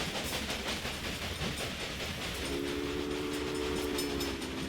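Trains in the video game Railway Empire rumble and clatter steadily, and a sustained horn tone comes in partway through and holds to the end.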